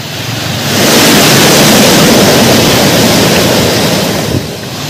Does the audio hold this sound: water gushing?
yes